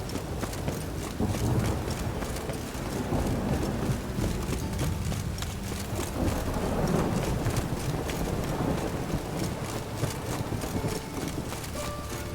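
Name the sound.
rain in the video game The Witcher 3 Wild Hunt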